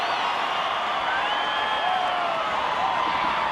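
Crowd at a college FCS football quarterfinal, Sam Houston State at Montana State, raising a steady, loud, distant roar of cheering that holds evenly throughout, with no speech.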